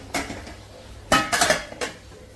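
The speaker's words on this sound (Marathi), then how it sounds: "गॅस करते बंद आणि आता झाकण ठेवून देते" A metal lid clanks onto a cooking pot of crab gravy as the gas is turned off, a few sharp clinks and rattles close by, with a light knock before and a final tap after.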